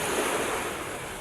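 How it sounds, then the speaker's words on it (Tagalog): Rough sea waves break and wash in rainy, cloudy weather off a fishing coast, a steady close surf hiss mixed with wind buffeting the microphone for just over a second, with no voices. "At simula na naman pag maalon."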